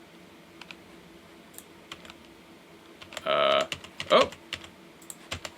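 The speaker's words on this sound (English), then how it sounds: "My keyboard is no longer working." Computer keyboard typing in short bursts of key clicks, a dense run of keystrokes near the middle, in a quiet room with a brief exclaimed voice.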